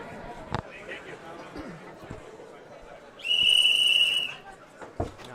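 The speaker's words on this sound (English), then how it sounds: "Now we hear the whistle of the seconds to leave." A long, loud referee whistle blast at a boxing event signals the seconds to leave the ring before round two, rising clearly over steady crowd noise and commentary.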